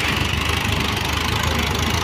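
An Arjun 605 tractor engine pulls a loaded high trolley, producing a loud, close, continuous heavy drone with a rough, knocking texture that holds steady throughout.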